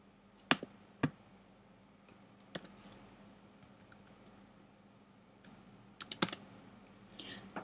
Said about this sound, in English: And I'm going to type the title.